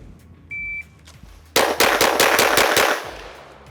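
Comp pistol, a Shadow Systems XR920P, firing Fiocchi ammunition: a loud, fast string of about seven close gunshots in quick succession, preceded by a brief steady electronic beep.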